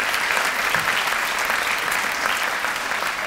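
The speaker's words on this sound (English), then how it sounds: "How about a round of applause for the staff here at the Arizona Broadway Theater?" A crowd at the Arizona Broadway Theater claps continuously for staff at an employee recognition celebration, dense and steady applause filling the room without a break.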